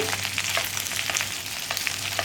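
Okra sizzles steadily in a hot pan while a spatula stirs it, leaving occasional soft scraping knocks over the constant frying hiss.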